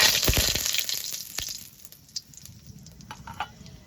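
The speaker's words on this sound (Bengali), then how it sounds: "দুটো শুকনো লঙ্কা কটা গোটা জিরে একটু নেড়ে ছেড়ে নেব ফোড়নটা" Bay leaves, dried red chillies and whole cumin seeds frying in hot oil for tempering, a bright crackling sizzle with sharp pops at first that thins into scattered spits and faint hissing.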